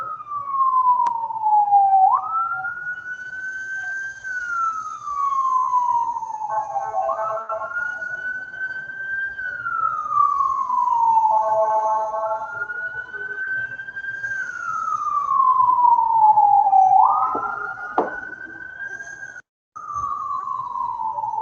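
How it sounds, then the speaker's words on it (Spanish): An ambulance siren wails in long repeating rising-and-falling sweeps, loud and steady for over twenty seconds, with a brief dropout near the end. "Vamos a esperar que pase la ambulancia"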